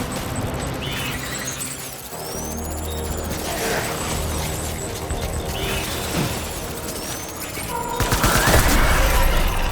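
Sustained gunfire in the video game Death Stranding crackles in a dense continuous fusillade with mechanical clatter, growing heavier toward the end.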